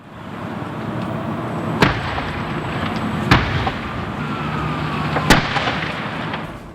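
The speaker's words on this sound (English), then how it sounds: "PennDOT tells us those explosions were portions of concrete exploding in the intense heat of the fire." Chunks of concrete burst in the intense heat of a tanker truck fire: three sharp, loud explosive cracks spaced a second or two apart over a steady roaring, crackling blaze.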